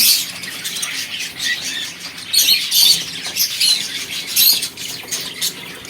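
Exotic pet birds in a shop make a busy chorus of bright squawks and chirps, with louder bursts of calling rising over a steady background of chatter.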